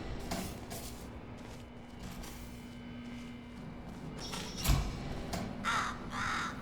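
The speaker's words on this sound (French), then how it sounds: "Ah, un corbeau." A crow caws in the video game Portal Stories: Mel, several harsh, separated caws over a low steady hum of game ambience, with a thump near the end.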